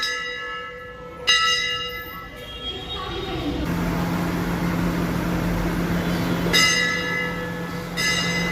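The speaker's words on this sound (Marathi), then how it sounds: "घंटी वाजव" A temple bell is struck repeatedly at a Mahadev temple, bright ringing tones that sustain and decay between strikes, heard close over ambient noise and people talking.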